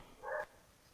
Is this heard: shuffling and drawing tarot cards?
no